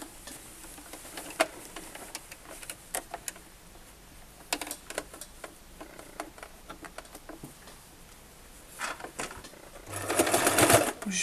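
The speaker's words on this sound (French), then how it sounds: "je vais venir coudre juste au bord en fait pour fixer les oreilles sur le panier" A sewing machine stitches ears onto a fabric Easter egg basket, running in short rapid bursts with pauses between, then a longer louder run near the end, close by with little talk.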